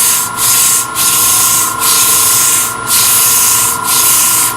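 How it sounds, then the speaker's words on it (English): Sandpaper rubs against a wooden Christmas ornament spinning on a woodturning lathe: a close, steady rasping hiss in long strokes with brief regular pauses, over a constant motor hum. "so now I can come back and maybe sand a little bit more down in here"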